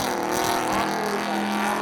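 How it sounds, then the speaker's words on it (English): At a spectator drag night at Seekonk Speedway, a 1981 Chevy Malibu wagon and a 1998 Camaro accelerate off the line, their engines roaring loudly and steadily with rising tones and a faint tire squeal. "Laying some rubber down alongside John Fielding out of Westport, Mass in the 98 Camaro."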